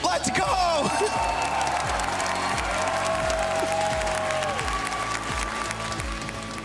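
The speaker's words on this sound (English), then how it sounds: "Listen to that crowd." A large crowd cheers and applauds at an esports world finals event, dense clapping and whoops filling the space, with a voice speaking over the din.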